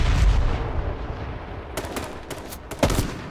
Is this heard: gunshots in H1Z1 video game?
yes